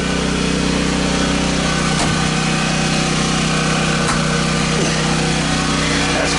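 An Ariens generator engine runs steadily close by with a loud, even mechanical drone and a few faint clicks. The start is not heard.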